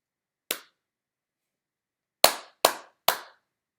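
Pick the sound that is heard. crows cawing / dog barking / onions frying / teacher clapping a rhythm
teacher clapping a rhythm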